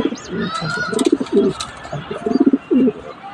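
Pigeons with young chicks coo close by in a few soft, low, throaty bursts, with faint chirps in between.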